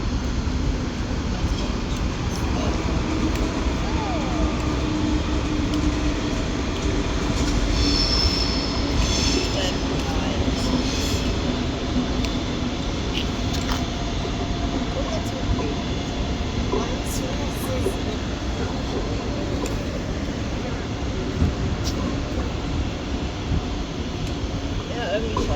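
A train pulls into Bremen main station, a loud continuous rumble of wheels on rail with squeals and clatter throughout, and station sounds around it.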